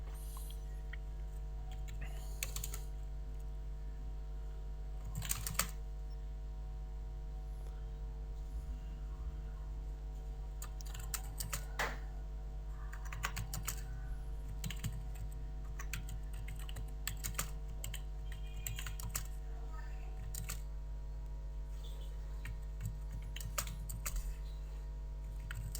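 Computer keyboard typing Urdu text in MS Word 2013, irregular bursts of key clicks with pauses, close over a constant low electrical hum, no voices.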